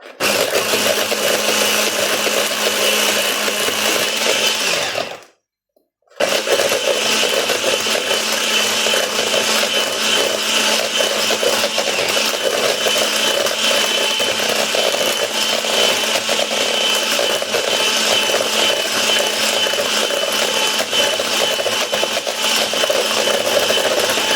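An electric mixer beating cake batter, with a steady loud whirring drone that holds for about five seconds, cuts out briefly, then runs on unbroken for the rest of the time.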